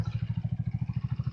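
A small buggy engine idles at about 1,500 RPM with a fast, even, pulsing chug, close and steady without any voices.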